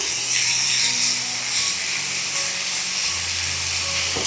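Chopped agathi flowers are stirred into a pan of frying onions, giving a steady, loud hiss and sizzle that fills the whole stretch.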